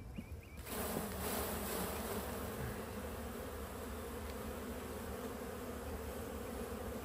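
Honey bees buzz steadily around frames lifted from a honey super, a dense continuous drone filling the air close by with no voices.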